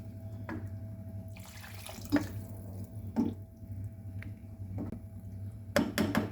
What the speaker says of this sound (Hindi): अभी इनमें शामिल करूँगी पानी।